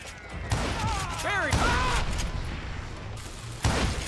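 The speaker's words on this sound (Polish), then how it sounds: "Te wybuchy mi się podobają." Explosions and gunfire in the western shooter Call of Juarez Gunslinger, with sharp blasts at the start and end and a rattling volley between, heard under someone talking.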